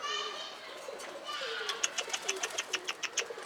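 Pigeons coo in a quick series of soft repeated pulses that grows more rhythmic toward the end, fairly faint and outdoors, with voices heard faintly in the background.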